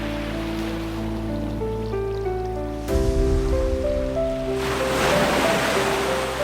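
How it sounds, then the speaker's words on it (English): Ocean surf breaking against a rocky coastline, with a steady wash of waves under sustained music that swells louder halfway through. "The waves crash relentlessly against the rocks"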